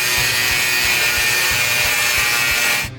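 A grinder runs continuously in a metal workshop, a loud, dense, steady whine with a rhythmic low thumping underneath, close to the listener and cutting off abruptly at the end, with no talk.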